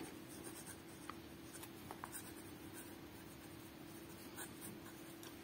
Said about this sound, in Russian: Выяснилось, что ручка работает, но у нее перо немножечко шуршит.